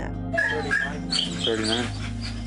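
Dogs in small kennels stacked three high in a garage of a hoarding case whimper and whine in short high cries, with someone speaking briefly over them.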